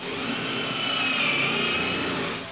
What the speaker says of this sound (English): Once you have the marks, you're going to drill a hole.